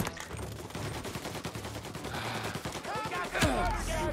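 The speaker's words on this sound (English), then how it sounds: "Who's shooting?" Video-game gunfire from Mafia sounds as a rapid series of faint, sharp shots with overlapping bursts, mixed with other game sounds.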